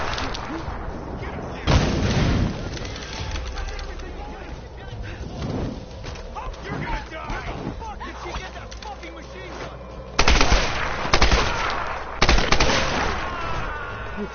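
Machine gun fire from the Tomb Raider video game comes as loud sustained bursts and heavy blasts over a constant noisy battle background, with a person talking over it.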